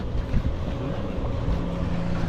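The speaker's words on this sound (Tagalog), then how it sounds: "Dalawang makina oh." Twin engines of a service boat idling steadily, a continuous low rumble with wind noise over the microphone and no speech.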